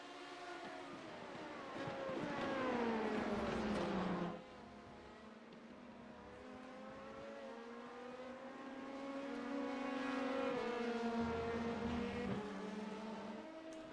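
Prototype LMP2 race cars in a racing game roar down the Kemmel Straight at Spa, with loud engine notes climbing and shifting pitch as several cars pass close by, then building again in a sustained drone.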